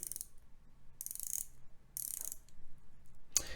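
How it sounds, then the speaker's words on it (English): Sharp bursts of fine ratcheting clicks come from a 120-click bezel being turned on a Steinhart Ocean Titanium 500 diver's watch. There are four close, crisp spins separated by short pauses. "I like the sound of the bezel."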